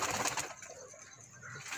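Pure Teddy pigeons in a breeding setup coo close by, giving soft, throaty burbling calls that run on and off for the whole short stretch with no voices over them.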